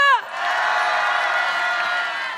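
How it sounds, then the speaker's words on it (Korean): A crowd at a candlelight protest rally cheers and claps in a loud, sustained roar of voices and applause, opening with a brief falling tone before the cheering holds steady. "박수 부탁드립니다"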